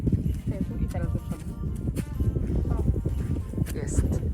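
A horse moving close by during a Christmas-season visit, its hooves clopping in an uneven rhythm under steady conversation and laughter.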